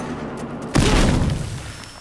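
A frag grenade explosion in Battlefield Hardline multiplayer: a single sudden, loud boom with a rumbling, debris-like tail that decays over about a second after a quieter lead-in.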